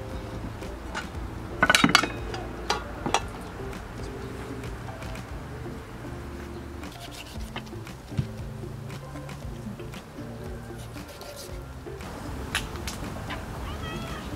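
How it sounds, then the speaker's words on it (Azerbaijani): A cat meows several times in a kitchen while meat and chicken are being cut for Azerbaijani khingal, with dishes and cutlery clinking nearby; the calls are brief and moderately close over steady background noise. "Pişidir, ət gəlsin. Ət istəyirəm."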